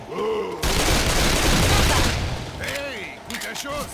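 A sustained burst of rapid gunfire in Left 4 Dead 2, loud and dense, with someone talking before and after the shooting.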